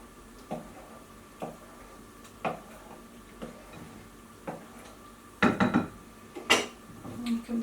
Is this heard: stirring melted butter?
yes